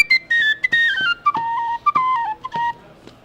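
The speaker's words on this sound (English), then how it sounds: "The highest one is a little tiny F whistle." A small tin whistle in F plays a quick, piercing high melody of short and held notes, close and loud, alone with no talk.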